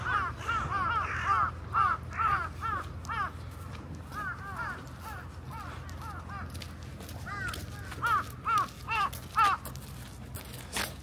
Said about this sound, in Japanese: カラスこんな感じなんですよね。